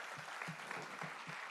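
Guests at a fitness school's twentieth anniversary evening applaud in a steady, soft wash of clapping that sounds distant and muffled, with no voices over it, lasting only a moment.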